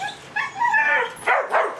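A dog gives a few short barks and yips followed by whimpering whines, close and fairly loud, with no talk over it.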